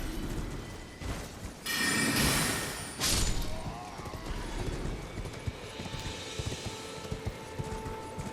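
A horse gallops in the video game Elden Ring, its hooves clopping in a steady rhythm through most of the stretch, with a couple of louder crashing thuds early on and faint talk in the background.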